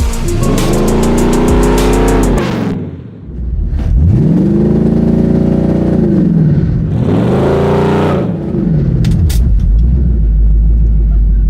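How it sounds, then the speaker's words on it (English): A V8-swapped Volkswagen Beetle engine revs hard for a burnout, loud and close, in three long surging bursts that rise, hold and drop, with brief dips between and a sputtering, crackling tail. "we are gonna see how good she does a burnout"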